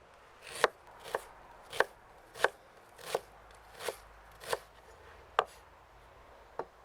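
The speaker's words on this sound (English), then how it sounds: "Then we mince the ginger." A knife mincing fresh ginger on a board, about ten sharp, evenly spaced chops, close and clear with no talking.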